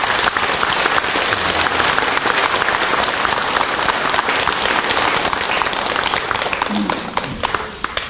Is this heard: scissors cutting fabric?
no